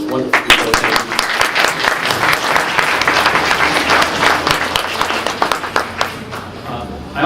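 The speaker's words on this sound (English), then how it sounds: "member applause for all those wonderful people" Audience at a dinner and entertainment event bursts into sustained applause, dense crowd clapping that holds steady for several seconds and then tapers slightly, close and loud.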